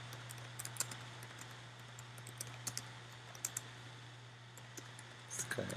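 Number keys tapped on a computer keyboard during a programming lesson on pointers. The keystrokes come as faint, sparse clicks in short irregular bursts over a steady low hum, with no talking.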